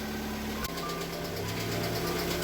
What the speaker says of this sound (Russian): Гидрики застучали вообще жестко.